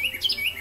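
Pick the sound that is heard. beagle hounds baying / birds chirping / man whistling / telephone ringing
birds chirping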